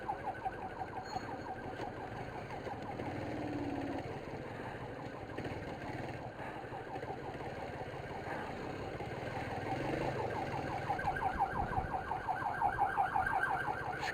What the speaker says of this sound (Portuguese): mas eu estou ouvindo a ambulância.